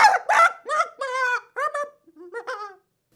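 A person imitates an angry chicken, squawking and clucking in a series of loud, choppy, agitated bursts that trail off into a final squawk.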